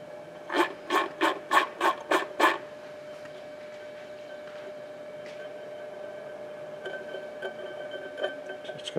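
A Thermolyne Mirak magnetic stirrer runs at about 136 RPM in a lab setting. It starts with six evenly spaced scraping rasps, then settles into a faint steady hum with a few soft ticks.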